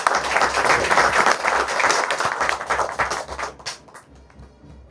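An audience applauds students at a school celebration of national robotics champions and quiz semi-finalists. The clapping is dense and steady, then thins out and fades toward the end.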